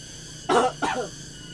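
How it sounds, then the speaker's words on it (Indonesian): Two quick coughs in a row, the first stronger, close by against a quiet room background with no talking. "Oh, ada yang batuk."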